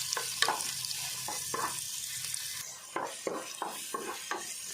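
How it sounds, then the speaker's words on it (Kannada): Long-cut onions fry in a pan for Tulunadu-style clam sukka, a soft continuous sizzle broken by repeated rhythmic spatula scrapes and stirs. "ಒಂಜಿ ಉದೊದ್ದ ಕಟ್ ಮಲ್ದಿನ ನೀರುಳ್ಳಿ ಪಾಡೊಂದುಲ್ಲೆ ನೀರುಳ್ಳಿ ಹದ ಫ್ರೈ ಆಂಡ ಯಾವು"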